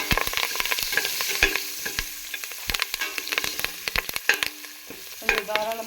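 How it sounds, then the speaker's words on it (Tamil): Onions and curry leaves sauté in a pan for a sambar rice dish, with a soft sizzle and frequent sharp scrapes and clinks as the mixture is stirred, and nobody speaks. "வெங்காயம் நல்லா வதங்கட்டும்."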